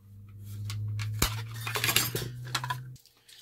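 Stanley Adventure camping cook set pieces, metal pots and bowls, clatter and clink as they are handled and nested together, with a steady hum underneath and a sharp knock partway through.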